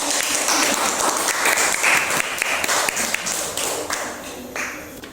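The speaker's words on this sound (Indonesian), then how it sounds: "Berikan tepuk tangan untuk Dian." Classroom of students clapping for a classmate during an Islamic studies lesson on Asmaul Husna, a dense, steady burst of many hands lasting several seconds, close and fairly loud with no talk over it.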